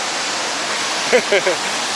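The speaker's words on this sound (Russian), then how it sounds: "я считаю, что водопад очень перспективный" Waterfall in the Chichkan area of Kyrgyzstan roars as a steady, broad hiss of rushing water, with a few brief voice sounds rising over it midway.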